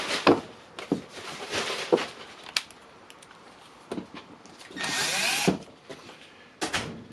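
A power tool driving screws to close a Makita tool, short bursts of motor whirring separated by clicks and handling noises, one longer burst near the end, close and moderately loud.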